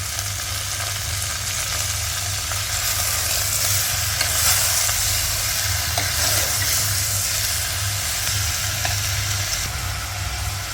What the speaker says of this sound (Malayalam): തക്കാളി ഇടുകയാണ് പിന്നെ കരിവേപ്പില